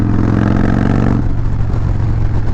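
A 2017 Harley-Davidson CVO Breakout motorcycle engine runs loud and close, with a throbbing idle that shifts in pitch as it revs.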